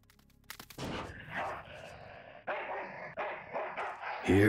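In the point-and-click adventure game Full Throttle Remastered, a dog gives a string of loud, sharp barks and snarls in quick bursts, mixed with punchy game sound effects.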